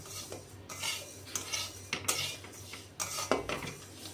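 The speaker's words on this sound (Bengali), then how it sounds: "আর ডালটা ভেজে নিচ্ছে এখন" Dal lentils dry-frying in a pan, a utensil scraping and stirring through them with irregular clinks and rasps, close up and moderately quiet with a faint low hum beneath.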